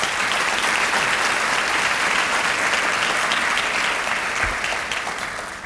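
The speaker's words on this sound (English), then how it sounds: "Can we please give a round of applause?" An audience at an annual meeting applauds steadily and loudly throughout, the clapping dense and sustained before slowly tapering off at the end.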